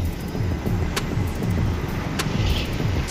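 Steady road rumble of a 22-wheeler truck trailer hauling a new Toyota Land Cruiser V8 and other cars, a continuous low engine and tyre drone with a few brief clicks, no talk.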